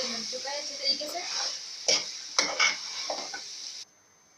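Chicken and beans frying in a pan are stirred and mixed, producing soft sizzling with several clinks and scrapes of a spoon against the pan while a voice talks near the start; the sound cuts off abruptly near the end.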